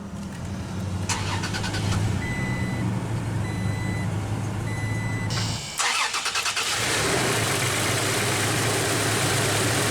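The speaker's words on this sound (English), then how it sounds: "let's go ahead and start the engine" A 2022 Toyota Tacoma TRD Off-Road Double Cab pickup engine cranks via push-button ignition and catches, then settles into a steady idle that fills the rest of the recording, with faint beeping earlier on.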